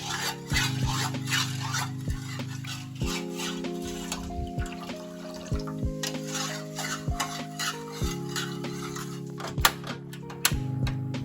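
A spoon stirring water, jelly powder and sugar in a pot for a tropical fruit jelly dessert, with a steady swishing and light scraping, occasional clinks against the pot, close up and without speech, while a soft melodic tune plays underneath.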